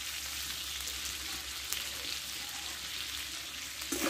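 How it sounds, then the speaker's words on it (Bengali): Grated ginger and soaked chickpeas stir-fry in a hot pan with a steady, quiet crackling sizzle throughout and a brief spatula scrape near the end. "দিয়ে একসঙ্গে ভালোভাবে একটু কষে নেব, আদার গন্ধটা একটু চলে যায়।"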